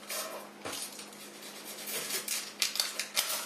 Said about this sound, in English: Now, onions, you just cut the ends off.